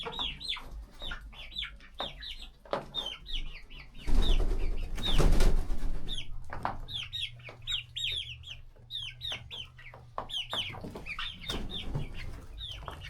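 Many broiler chickens cluck and squawk close by in a coop in a steady, busy chatter, with a louder burst of flapping and commotion partway through.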